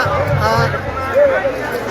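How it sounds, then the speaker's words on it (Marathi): A crowd of party workers celebrates a municipal council election result in Bhokardan, giving a dense, loud babble of many voices with chanting rising in the middle. "या ठिकाणी सर्व कार्यकर्ते जल्लोषामध्ये या ठिकाणी घोषणा देताना आपल्याला दिसत आहे"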